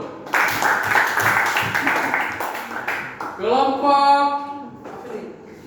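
A classroom of students claps together in a brisk burst of hand claps, fairly close and loud, before the clapping gives way to voices calling out in a sing-song chant.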